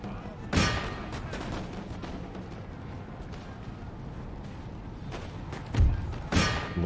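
A unit firing a musket volley in Empire: Total War: a sharp crack early on over a steady rumbling battlefield bed, then a couple more thumping reports near the end, with no talk.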